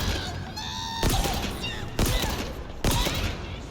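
A plasma weapon fires in the shooter game Halo Infinite, giving three heavy, punchy blasts about a second apart over a dense bed of game noise and effects.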